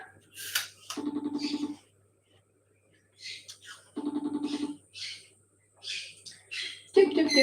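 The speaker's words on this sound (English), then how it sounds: "I don't know if you can hear Trick screaming." A pet bird gives repeated short, buzzy screeching bursts at roughly three-second intervals, loud and close, separated by brief quiet gaps and a few softer chirps.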